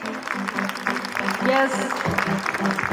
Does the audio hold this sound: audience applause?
yes